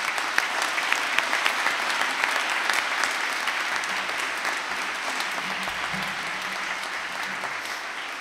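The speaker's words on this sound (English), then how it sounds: "join me in giving the recipients a round of applause." Sustained applause from a large graduation ceremony audience for award recipients, steady dense clapping throughout with no voices over it.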